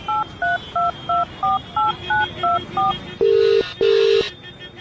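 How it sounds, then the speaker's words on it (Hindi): A phone number is keyed in as a quick, even series of dual-tone beeps, followed by two longer, louder tones. "मिनी ने उस नंबर को अपने फोन से कॉल किया।"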